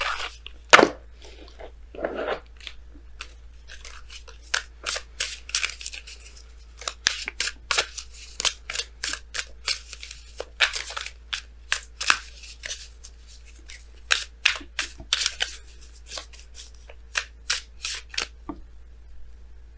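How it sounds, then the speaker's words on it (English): A deck of Messenger Oracle cards shuffled during a tarot reading: a long run of quick, crisp riffling snaps and flutters in irregular bursts, close and clear, with no talking. "So we're going to go ahead and pull you guys your Messenger Oracle cards."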